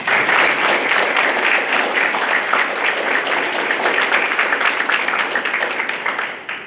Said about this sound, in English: Let's give a round of applause for all those that helped make this happen.